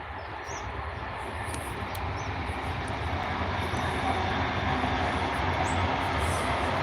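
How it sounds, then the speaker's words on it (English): A train rumbles past in a Philippine garden, a broad steady roar that holds moderately loud and swells slightly over several seconds, with faint chirps above and no speech. "Train."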